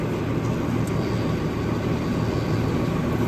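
An engine running on with a steady, even drone that holds at the same level throughout, close and continuous, with no talk over it.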